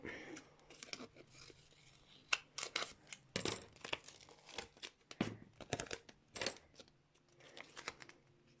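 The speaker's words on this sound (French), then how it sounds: "ensuite au milieu, je vais mettre tadam, du scotch Rambo" Rambo tape being torn and pressed onto a baby album cover in a craft setting, a series of sharp tearing and crinkling bursts with quieter rustling between, close and fairly soft, no talk.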